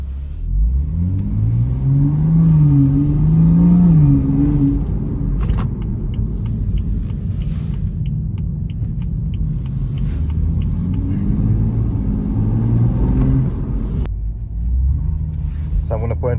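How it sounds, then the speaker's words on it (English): A BMW M135i that had a dead motor revives and is driven on a test drive, its engine rumbling steadily with rising and falling revs as it moves through the gears, loud and close throughout. "I'm gonna go for a quick test drive."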